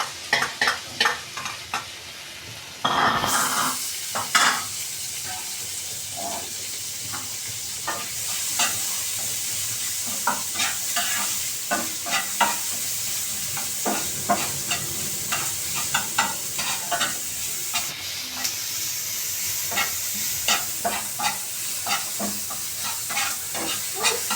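Onion, garlic and spiced chili fry in a pan, a loud close sizzle that jumps up after a few seconds and continues with a steady hiss under repeated scraping and stirring knocks, with no talk.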